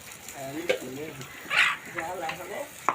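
Potatoes tipped into hot spiced oil on a wood-fired stove crackle and sizzle steadily, with louder bursts of spattering, while several voices, including a child's, talk nearby throughout.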